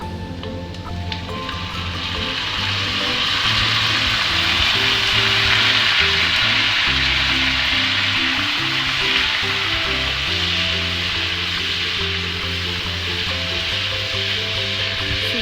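Loud, steady sizzling as soy sauce is poured along the edge of a hot wok while cooking Taiwanese braised pork rice, a continuous frying hiss that swells and holds with no talking.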